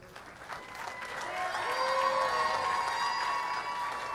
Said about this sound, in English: how about a nice round of applause for our two finalists?